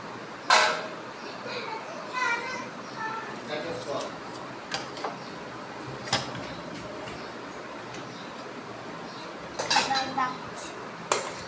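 Rice is served onto plates at a home lunch, with sharp clinks and knocks of dishes and cutlery coming in scattered bursts while a person talks.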